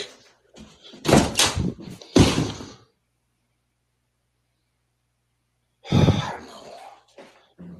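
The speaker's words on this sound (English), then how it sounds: "something violently bangs on the door" In a horror film, something violently bangs on a door: two bursts of loud, harsh impacts separated by a long silence, close and forceful, with no voices.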